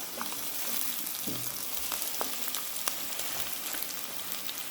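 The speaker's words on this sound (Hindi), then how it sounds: "देखिए जी कीमा हमारा अच्छी तरह भुन गया है। अब हम इसके अंदर डालेंगे प्याज।" Sliced onion sizzles in a pan of keema fried with whole spices, a soft crackling hiss dotted with small pops, fairly quiet and close, with no one talking.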